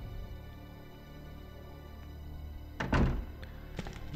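Drawer opening in the video game Resident Evil 2: after a quiet hum, a short wooden thunk and scrape, followed by a couple of faint taps.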